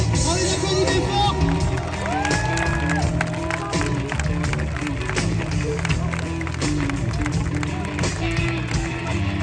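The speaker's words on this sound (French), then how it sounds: "On les applaudit fort." An outdoor crowd at a lakeside choir concert in Apt applauds and cheers the singers, with dense clapping mixed with loud chatter and shouting throughout.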